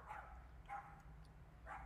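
A dog barks three times, faint and somewhat distant, in short evenly spaced woofs over a low steady background hum.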